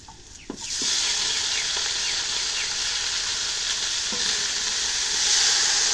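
Leafy greens hit hot oil with fried onion, chili and garlic, bursting into a sudden loud sizzle that settles into a steady close hiss with a few stirring scrapes, no talking.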